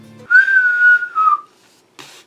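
A single person whistles a short, steady tone that wavers slightly, pauses briefly, then ends with a soft breathy puff.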